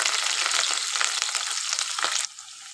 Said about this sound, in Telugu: ఇప్పుడు చూడండి మంచిగా ఆనియన్స్ అయితే ఇట్లా ఫ్రై అయిపోయినాయి కదా